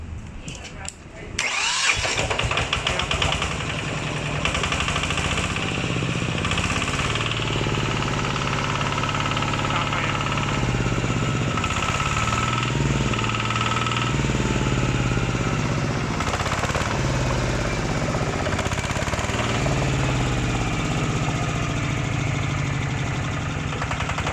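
A Magnum 140 Plus small engine cranks with an electric starter, catches, and settles into a steady, loud idle that runs continuously.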